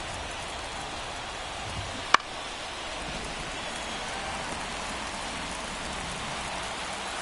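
Steady rain hisses evenly in a baseball video game, with one sharp click near the start and no commentary over it.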